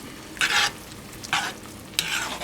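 A spoon stirs chicken marsala sauce, still without its cream, in a pan on the stove, three short scraping strokes over a low simmering hiss.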